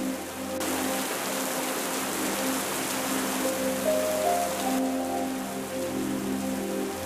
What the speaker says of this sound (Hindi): तभी अचानक तेज आंधी और बारिश आने लगती है।